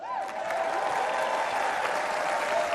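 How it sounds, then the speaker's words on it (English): Crowd applause at a political rally, steady clapping from a large audience filling the whole stretch at a constant level, with no talk over it. "Barely applauding for him."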